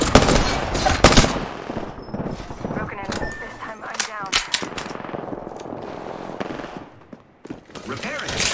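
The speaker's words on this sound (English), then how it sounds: "The enemies are shooting at me." Enemy gunfire in the video game Apex Legends, bursts of automatic shots crackling loudly in the first seconds and returning intermittently, mixed with game effects and a character voice speaking over the action.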